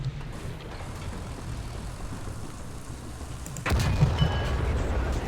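An ISU-152 tank destroyer firing a high-explosive shell in War Thunder, a single heavy cannon boom that rises suddenly out of a low engine rumble and rolls on for about a second and a half, with no talk.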